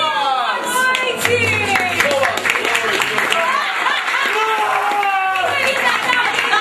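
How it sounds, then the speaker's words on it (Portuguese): A live Christmas-night show audience claps and cheers steadily as a guest comes on stage, with excited voices and laughter mixed into the continuous applause. "Palmas, Joquinha, palmas!"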